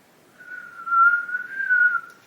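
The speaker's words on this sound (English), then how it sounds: "I can whistle a little bit" A person whistling one sustained, slightly wavering note for about two seconds, close and clear with no other sound.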